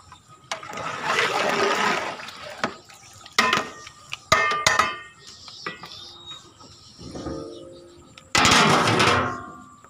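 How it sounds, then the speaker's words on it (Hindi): Bubbling, churning water boiling in a large degh cooking pot for chana pulao, with bursts of rushing sound and scattered metallic clatters and knocks, fairly close. "अब हमारी दूसरी देग का पानी उबल रहा है, जोश मार रहा है।"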